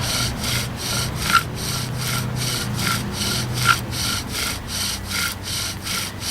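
A privet bow drill spins against a wooden fireboard for friction fire, giving slow, even back-and-forth rubbing strokes at a steady rhythm, close and moderately loud.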